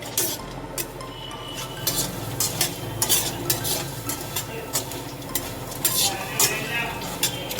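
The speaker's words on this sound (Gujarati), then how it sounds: "આવી જ રીતે બધી જ ગોઠલીને શેકવાની છે આપણે ધીમા ગેસે." A spoon repeatedly scraping and tapping a pan as mango seeds are stirred and dry-roasted over low heat, rhythmic clinks over a faint sizzle, close by and without voices.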